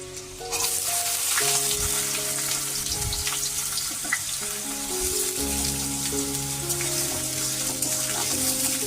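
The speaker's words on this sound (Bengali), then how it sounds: "পেঁয়াজটা একটু ভাজা হোক" Oil sizzles and crackles steadily as onions and garlic fry in a pan, a constant bubbling hiss with occasional stirring clunks and no talking.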